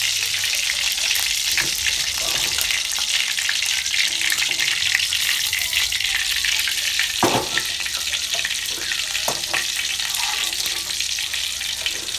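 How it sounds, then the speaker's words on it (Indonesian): Long beans frying in a pan of oil, a loud continuous sizzle and crackle close by throughout, with occasional stirring clinks and scrapes. "itu aku goreng dulu untuk kacangnya biar nggak langu gitu loh"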